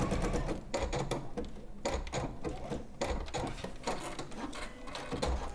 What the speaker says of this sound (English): Now you can overlock this in place as well.